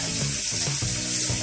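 A bathroom sink tap runs steadily while a child washes hands, a close, continuous rush of water with no talk.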